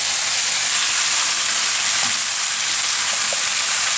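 Onions fry in a pan, a loud, dense, unbroken sizzle heard up close, with a couple of soft stirring taps and no talk.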